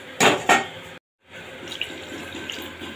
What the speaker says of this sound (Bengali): ঠিক এতটা পরিমাণে আমি ঝোলের জন্য জল দিয়েছি।